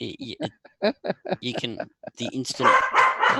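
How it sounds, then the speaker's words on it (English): A dog barks a few times in the background near the end, partly buried under continuous conversation between men. "That's the dog."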